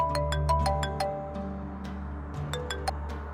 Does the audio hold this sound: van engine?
no